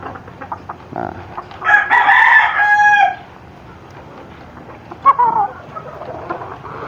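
A rooster crows loudly and close by in one long drawn-out call, then gives a shorter burst of clucking a few seconds later, against quiet outdoor background noise.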